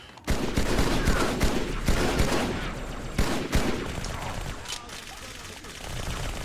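Silenced SMG fire from Halo 2 during gameplay comes as a series of sharp muffled bursts, repeated several times over a steady background of game ambience.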